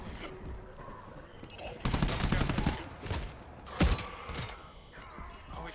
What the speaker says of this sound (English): Then I'm gonna shoot you with a pistol,